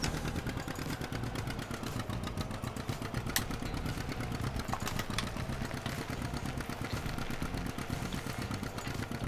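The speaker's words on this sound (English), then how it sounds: "I'd prefer if this wasn't a row crop type tractor" A John Deere row-crop tractor engine runs steadily in Farming Simulator 2017 on the Sandy Bay map, a continuous low rumbling drone with mechanical clatter, fairly faint and even throughout, with no talking.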